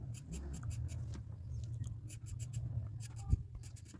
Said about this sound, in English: Now I'm gonna be using my B pencil for lighter hair strands